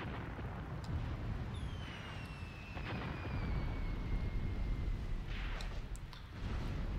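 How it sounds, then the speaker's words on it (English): Artillery bombardment in the WWII tactics game Graviteam Tactics, 2nd Battle of Kharkov: a continuous low, rumbling roar of distant shelling with muffled booms and a faint whistling shell passing overhead. "Oh, we're really bombarding them now."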